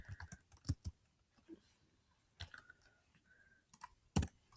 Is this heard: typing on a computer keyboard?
yes